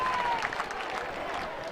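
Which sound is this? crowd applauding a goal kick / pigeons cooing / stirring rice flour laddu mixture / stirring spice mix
crowd applauding a goal kick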